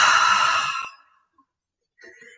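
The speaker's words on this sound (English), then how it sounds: "and then exhale out" A long, deep breath pushed out during yoga breathing practice, a broad airy exhale lasting nearly a second before fading into quiet, followed later by a faint brief sound.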